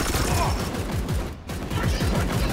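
Gunfire in the video game Warhammer 40k: Chaos Gate - Daemonhunters comes as a dense rattling fusillade of rapid repeated bursts, loud and continuous, with a brief dip near the middle.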